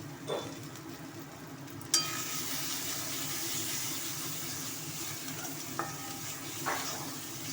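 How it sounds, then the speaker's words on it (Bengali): Ground turmeric, chili powder and black pepper fry in oil with a bay leaf, giving a quiet, continuous sizzle with a few stirring scrapes and light clinks from a spoon against the pan. "দিয়ে মশলাটা নাড়াচাড়া করে ভাজবো"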